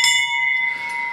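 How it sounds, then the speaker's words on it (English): A single bell is struck once on a television show stage to open a round, its bright clear tone ringing out and slowly decaying alone. "Good old ring bell, Mike."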